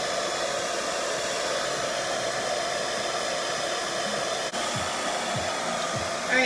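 Hair dryer running steadily, fan on low with heat turned up, blowing on curly hair after a keratin treatment; a loud, continuous whooshing hum close by for the whole stretch, with no talking.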